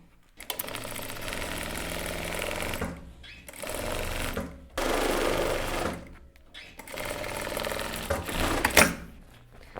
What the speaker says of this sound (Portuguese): Então, eu vou costurar toda a parte de cima.